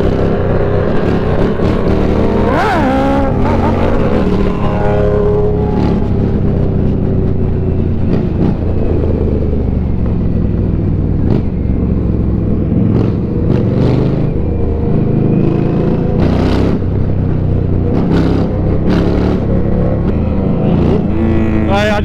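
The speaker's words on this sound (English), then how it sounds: "I just looked in my mirror and there is a train of motorbikes" Several superbikes roar past one after another in London, engines rising and falling over a constant rumble of road noise, loud and close.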